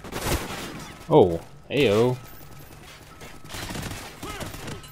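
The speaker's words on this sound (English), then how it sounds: "Lay down suppressing fire." Gunfire in the video game Call of Duty: Ghosts: sharp bursts and scattered shots rattle through the scene while a man exclaims loudly a couple of times over the shooting.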